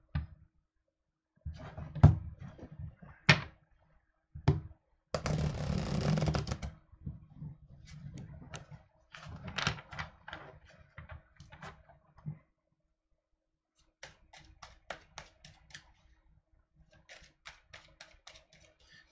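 Tarot cards are shuffled in quick papery riffles and soft slaps, with scattered taps and clicks and one longer rushing riffle, close and fairly quiet, separated by short pauses.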